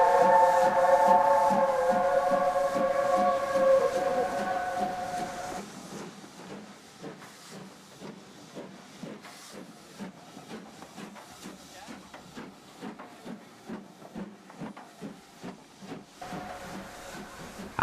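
A steam whistle shrieks over hissing steam, then fades as a train's rhythmic chugging and clattering continues steadily, the whistle returning faintly near the end.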